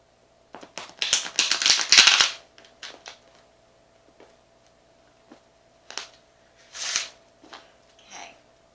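Tarot cards being shuffled give a burst of dense riffling clicks in the first seconds, then scattered softer taps and shuffles with pauses between them.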